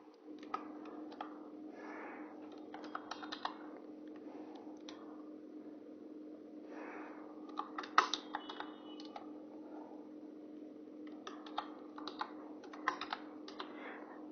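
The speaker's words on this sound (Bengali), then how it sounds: "সো আমি এখানে লিখলাম টেকনোলজি টিচার বিডি।" Clicky keystrokes on a computer keyboard as a channel name is typed into a YouTube search box, coming in quick bursts with short pauses over a steady low hum, close and moderately quiet.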